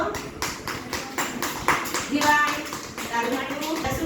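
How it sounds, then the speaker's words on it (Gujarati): A group of children clap their hands together in a classroom, a rapid scattered patter of claps that swells into a burst and continues, heard up close alongside light voices. "ચાલો સરસ તાળી પાડો"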